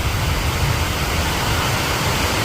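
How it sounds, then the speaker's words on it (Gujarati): Heavy rain pouring steadily in Navsari, a dense, even hiss of water that stays loud and unbroken throughout with no voices. "નવસારીમાં વરસાદે આજ મજા મૂકી દીધી છે।"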